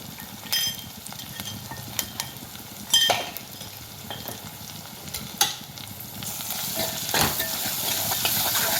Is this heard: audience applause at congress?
no